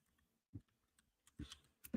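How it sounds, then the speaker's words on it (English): Computer keyboard typing during a trading software stream, a few separate key presses including a caps lock tap, close and fairly quiet, with no talking. "Can't type, and I press the caps lock."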